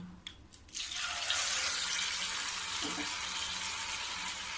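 A piece of hilsa fish dropped into hot oil in a kadhai sets off a sudden, steady sizzling hiss after a few soft clinks, the frying continuing evenly and fairly quietly.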